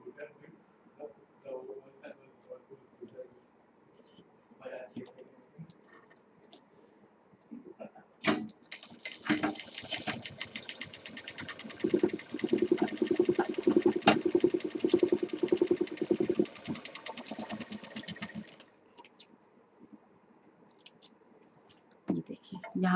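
A sewing machine stitches piping-style lining onto a potli bag, a fast even burst of mechanical clatter lasting about ten seconds, with quieter clicks and handling noises before and after and a voice speaking at low level.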